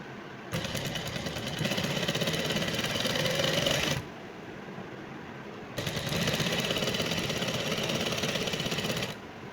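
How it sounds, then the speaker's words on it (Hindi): Sewing machine stitching fabric with a half-inch seam allowance, running in two sustained bursts of steady, close, buzzing motor-driven stitching separated by a short pause. "यहाँ से हाफ इंच छोड़ते हुए हम सिलाई कर रहे हैं।"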